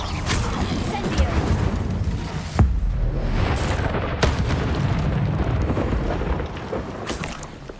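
An Incendio fire spell cast in Hogwarts Legacy bursts out as a series of heavy booming blasts and rumbling fiery rushes, loud and continuous, with sharp cracks partway through.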